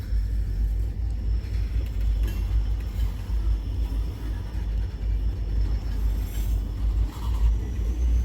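A slow freight train of empty LPG tank cars on the Wheeling & Lake Erie line rolls past nearby, giving a steady low rumble with faint wheel clatter throughout.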